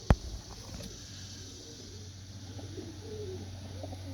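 Pigeons cooing in a loft pen holding young birds and one adult, soft low coos repeating under a steady background hum, with a sharp knock at the start.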